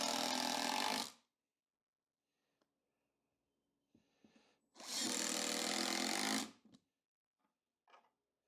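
A power tool drives screws to tack a long sheet of plywood in place, two loud bursts of whirring separated by a quiet gap with a few small knocks and clicks.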